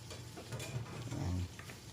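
Three large onions sizzle in a hot pan while being stirred, a soft continuous frying hiss with faint scrapes, for scrambled ostrich egg.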